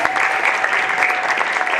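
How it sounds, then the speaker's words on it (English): Crowd at a youth football awards night applauding the coaches, a loud continuous patter of many hands clapping close by, with faint voices mixed in. "Let's give them a round of applause."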